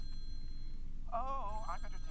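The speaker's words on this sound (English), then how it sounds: "it's a phone jingle." A short melodic phone ringtone jingle of a few rising and falling tones that starts about halfway in, clear and moderately loud over a steady background rumble.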